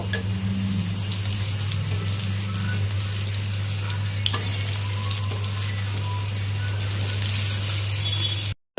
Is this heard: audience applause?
no